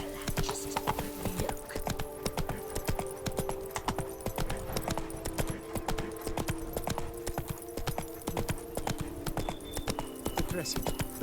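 Hooves of Roach, a horse in Witcher 3: Blood and Wine, clip-clop in a steady, quick trot throughout, close and clear, over a sustained musical drone with faint voices in the background.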